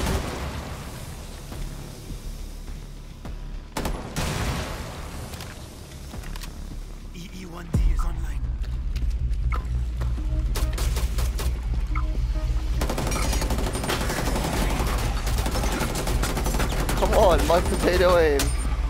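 Gunfire in the video game Rainbow Six Siege: rapid bursts and single shots crackle over a low game rumble, some close and sharp, while a voice talks intermittently.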